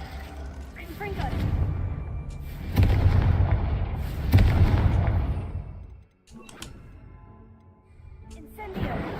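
Spell blasts cast in the wizarding action game Hogwarts Legacy, with a loud, rumbling fiery burst of Confringo and further crackling impacts following in quick succession, briefly dropping away before another surge.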